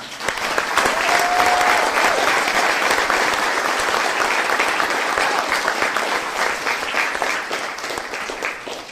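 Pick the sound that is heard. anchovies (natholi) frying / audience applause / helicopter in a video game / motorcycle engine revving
audience applause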